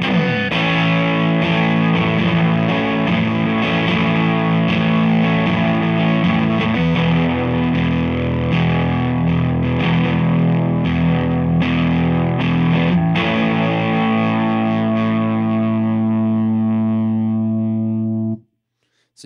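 Overdriven electric guitar on the neck pickup through an Emerson Custom EM-Drive overdrive pedal, loud sustained distorted chords ringing steadily for about eighteen seconds before cutting off, with no talking.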